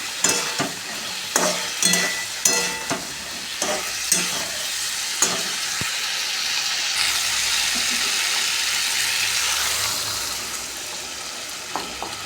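Pre-fried lentil dumplings (kalai bori) go into a hot pan for a thin vegetable curry; a spoon scrapes and stirs with several sharp clinks early on, then a steady broad sizzle of frying fills the rest.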